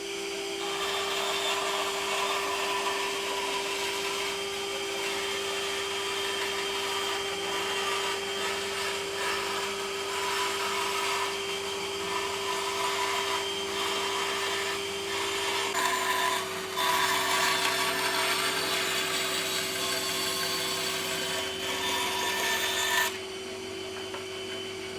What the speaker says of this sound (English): now I'm going to use the bandsaw to get it cut out